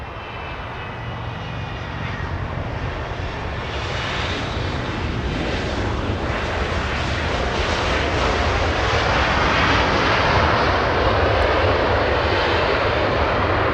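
Jet airliners, a British Airways jet and a Chinese airliner, taxiing on the ground at Los Angeles International Airport; a steady, loud engine roar and whine that swells gradually and holds throughout, with no talk.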